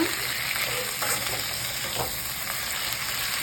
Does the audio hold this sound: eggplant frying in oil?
yes